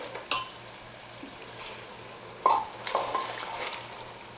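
Mutton masala with yogurt stirred and fried in a pan over low heat, with soft sizzling, a few scraping spoon strokes and light clatter, close and moderately quiet, no talking.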